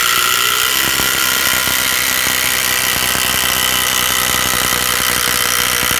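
A latest-model Makita power driver runs continuously while driving a screw during garden room base construction, a loud, steady high-pitched whine with no talk.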